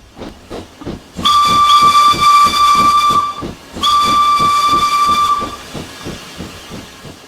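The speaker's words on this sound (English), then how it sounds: "the manual states that the whistle sound is a recording from the real B-Class" In the Train Simulator game's Darjeeling Himalayan Railway, two long, piercing steam whistle blasts recorded from a real B-Class locomotive sound over its rhythmic chuff, the hissing chugs continuing alone before, between and after.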